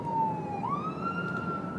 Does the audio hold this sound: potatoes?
no